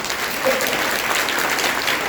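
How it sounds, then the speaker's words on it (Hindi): Audience applause at a DXN India event in Bijnor, dense steady clapping from a crowd filling the whole stretch at even loudness. "जोरदार तालियां सभी के लिए"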